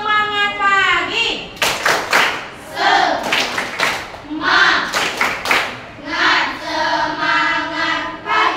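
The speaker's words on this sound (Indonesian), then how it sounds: "Tepuk semangat pagi." A sixth-grade class performs a rhythmic clapping cheer: bursts of loud, close hand claps in patterned groups alternate with children's voices chanting together.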